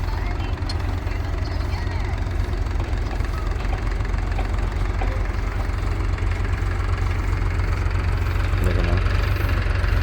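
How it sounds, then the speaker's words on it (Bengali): The engine of a potato planting machine working in a field chugs steadily nearby, a low rumbling drone with knocking pulses, while someone speaks briefly over it. "মেশিনের দ্বারাই কীভাবে আলু বসানো হচ্ছে।"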